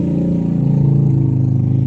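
A motorcycle engine running close by, a steady, loud, throbbing drone that holds level for the whole stretch, with no talking.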